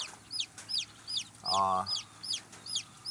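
Chickens cluck and peep close by, with a steady run of short high chirps and one louder, drawn-out cluck in the middle.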